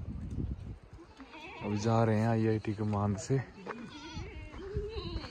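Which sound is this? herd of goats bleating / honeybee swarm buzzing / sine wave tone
herd of goats bleating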